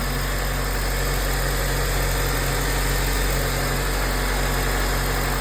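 A 2005 Honda Civic engine idles steadily just after an alternator replacement, a continuous close mid-to-low rumble with a constant hum and no talk.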